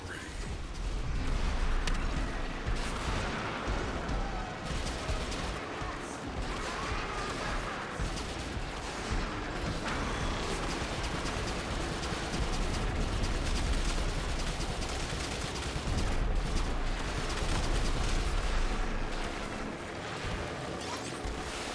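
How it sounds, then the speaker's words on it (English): Repeated explosions ring out as a cruise ship reactor detonates in the video game Warframe, a dense, continuous barrage of booms and crackling blasts at steady loudness for the whole stretch, with no talking. "Cruise ship reactor has detonated."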